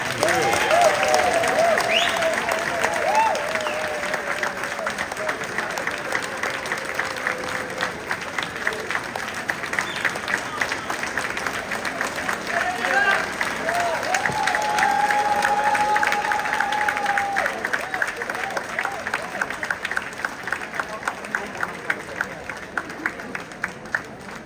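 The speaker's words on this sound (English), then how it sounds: "Can we give her a round of applause, please?" An audience at an evening keynote event claps and cheers for the guest speaker, a sustained dense round of applause with voices mixed in throughout.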